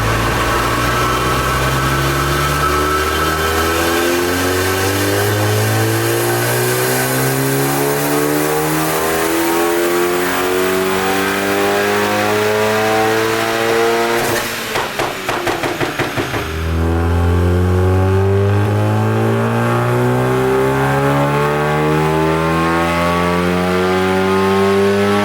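A stage 3 VW Golf GTI engine revs hard on a dyno, climbing repeatedly through the gears with a loud, rising roar, then dropping to a sputtering lull mid-run before pulling up through the revs again.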